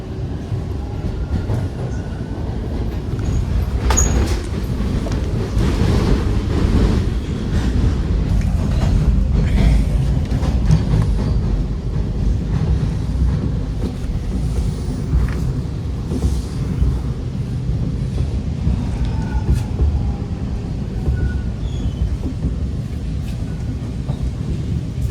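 A Toronto subway train rolls into Kennedy Station, a loud continuous rumble of wheels on track with occasional squeals and clacks, heard from inside the car.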